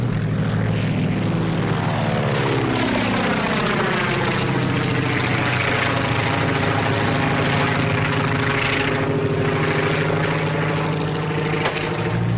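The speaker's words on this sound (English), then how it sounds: "Just spotted kid's plane with smoke attachment." A kid's small propeller plane with a smoke attachment flies overhead, its loud droning engine sweeping steadily in pitch as it passes, continuous throughout with no talking.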